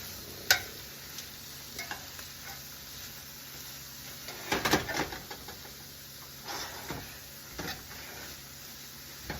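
Greens being stirred in a pan of garlic and butter give a faint sizzle with soft scraping and tossing sounds at irregular moments, quiet and close.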